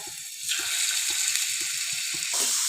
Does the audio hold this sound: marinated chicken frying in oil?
yes